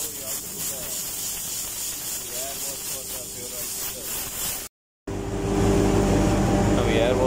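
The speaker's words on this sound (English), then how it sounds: "Now you have to do the air wash for the fuel oil filter." Compressed air hisses steadily through a marine fuel oil duplex filter during cleaning aboard a ship, a continuous near rush that cuts out briefly and then returns louder and harsher.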